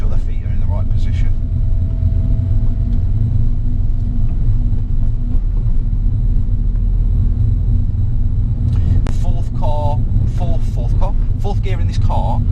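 A car in fourth gear at about 30 mph gives a low, continuous engine rumble that stays close and loud, and a voice or tone briefly rises over it near the end.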